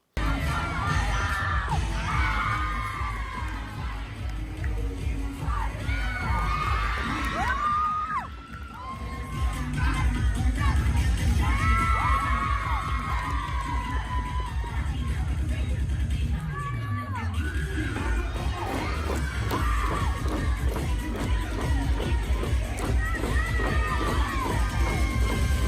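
High school cheer team cheering and shouting, a loud, dense crowd of young voices yelling and whooping continuously, with chants rising and falling throughout and a brief dip near the middle.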